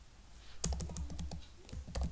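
Rapid clattering keystrokes on a computer keyboard while entering a web address, a steady run of close, crisp clicks with a few louder taps.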